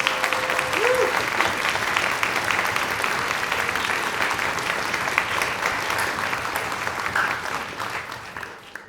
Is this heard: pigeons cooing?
no